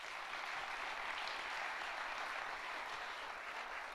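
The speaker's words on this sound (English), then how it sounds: "So let's hear it one more time for these guys." Audience applause for a hockey team at a 1 Million Cups event in Fargo, steady, even clapping from a sizeable crowd, heard at a moderate distance and lasting throughout.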